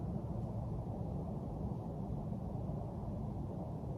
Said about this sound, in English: There's a lot of noise I can hear right now,